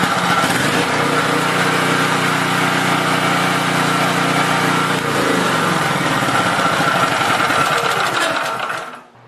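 A generator engine running loud and close with a steady buzzing drone that shifts pitch partway through, then winds down and cuts out at the end, no talking.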